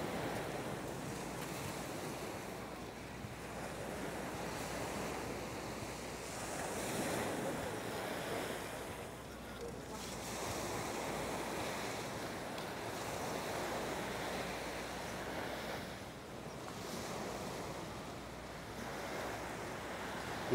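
Ocean waves near Waikiki Beach in Honolulu, a soft continuous wash of surf rising and falling in slow swells, mixed with wind noise, distant and fairly faint.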